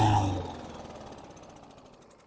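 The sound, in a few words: Yard Machines lawn mower engine running and surging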